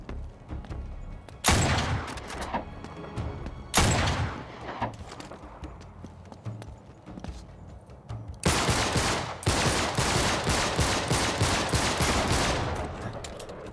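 Gunfire in the video game Uncharted 3: Drake's Deception, with separated loud bursts of rapid shots, then a longer sustained volley near the end, all close and punchy.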